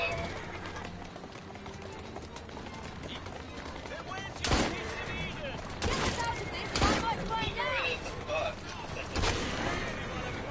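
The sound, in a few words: gunfire in video game Assassin's Creed Syndicate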